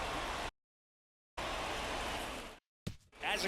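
Heavy rain pours steadily over a baseball field during a Los Angeles Dodgers versus Pittsburgh Pirates game, a loud broadband wash broken by two abrupt gaps of silence, with no one speaking.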